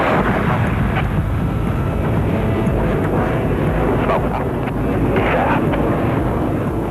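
Steady, loud roar of a Blue Angels jet airplane engine during a demonstration flight, a continuous broadband rumble with no talking.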